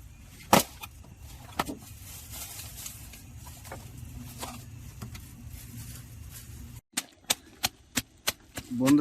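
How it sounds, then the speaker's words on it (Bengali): A hammer crushing biscuits into crumbs during outdoor camp cooking: a few scattered knocks, then a short rapid run of sharp, evenly spaced blows near the end. "দেখো হাতুড়ি দিয়ে বিস্কুট গুঁড়ো হচ্ছে।"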